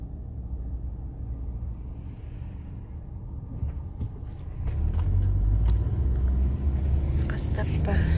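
Cars driving along a road near a campground, a low rumbling traffic drone that grows louder and heavier partway through as vehicles pass close, with faint voices speaking underneath.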